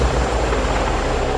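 Sea King helicopter flying past, a steady, loud rotor and engine roar with low throbbing that holds evenly throughout, with no voices.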